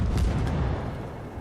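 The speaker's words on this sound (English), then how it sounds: "figure we can take a few long-range shots" Guns of the Sampson, a US destroyer in World of Warships, firing long-range naval shots: a brief low boom followed by a fading rumble, fairly faint and heard alone.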